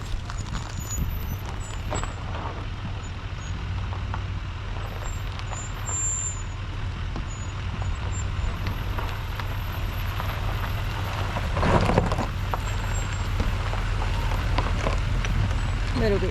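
A car drives through a river crossing in South Australia's Flinders Ranges, a steady low engine drone with road rumble throughout, swelling in a brief louder surge near the end.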